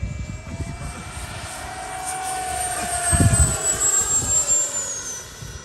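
An FMS Futura v3 RC sport jet with its electric ducted fan makes a full-throttle pass across a flying field, a rising, whining roar that swells as it comes near and then fades away.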